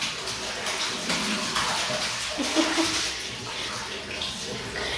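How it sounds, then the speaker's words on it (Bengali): A small child splashing and playing with water during a bath at home, producing continuous close splashing and trickling with occasional louder sloshes. "আর তারপর থেকে শুরু হয়েছে জল নিয়ে খেলা।"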